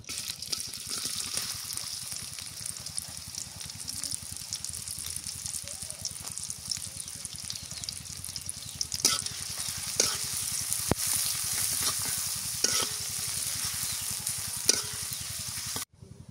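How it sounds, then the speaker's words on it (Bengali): Onions dropped into hot oil in a karahi, frying with a dense, continuous sizzle close by, broken by occasional sharp scrapes and knocks of a spoon stirring. "পেঁয়াজ দিয়ে দিই"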